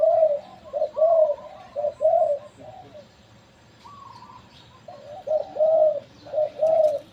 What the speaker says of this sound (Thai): นกต่อดีๆ นกฝึก